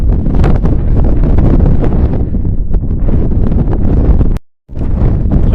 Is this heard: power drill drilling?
no